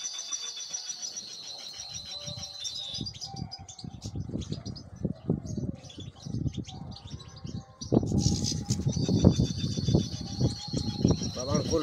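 A caged goldfinch and its chicks chirp in bright, busy trills that come and go over scattered rustling and clatter, with someone talking through much of it.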